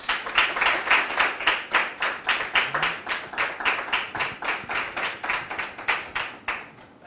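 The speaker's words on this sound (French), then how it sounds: "Public, merci de recevoir sous vos applaudissements notre troisième invité" A television studio audience applauds a guest walking on, steady rhythmic clapping from many hands in regular waves throughout, with no talk over it.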